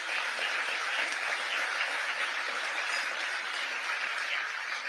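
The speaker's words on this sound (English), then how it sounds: "And please applaud them." An audience at a New York awards ceremony claps in sustained, dense applause, many hands at an even level from start to finish without any speech.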